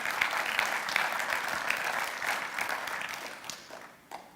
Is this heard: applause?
yes